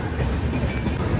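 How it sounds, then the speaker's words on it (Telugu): The Coromandel Express pulls out of Santragachi junction, a steady loud rolling rumble of the train heard from inside. "మన ట్రైన్ కరెక్ట్గా ఒక 2 మినిట్స్ తాగి సంత్రగంచి జంక్షన్ నుంచి స్టార్ట్ అయిపోయింది."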